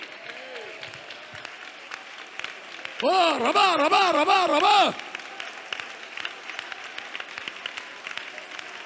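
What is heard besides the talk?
congregation clapping hands in prayer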